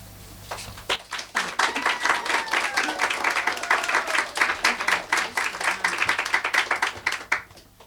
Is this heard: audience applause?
yes